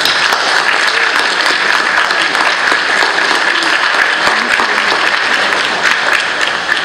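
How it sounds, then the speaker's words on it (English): A large audience applauds sponsors at a rocketry challenge finals event, loud, dense and sustained clapping that fills the whole stretch without a break and tapers only slightly at the end. "Let us give them a round of applause"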